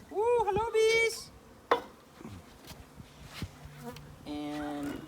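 Honey bees buzz around a new package being installed with a Barnyard Bees bee funnel, their close droning swelling and fading amid scattered clatter and handling knocks.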